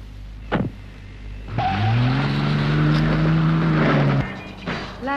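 A Rolls-Royce car pulls up: a smooth engine hum swells and holds steadily for a few seconds, then cuts off, with a sharp click before and after.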